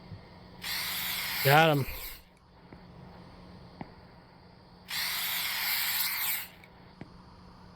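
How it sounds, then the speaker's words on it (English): Rat killer spray in a convenience store simulation game, two long hissing bursts separated by a pause, with a short squeak during the first burst and a brief spoken remark between them. "Apply it directly on fur. That is spray on contact, guys."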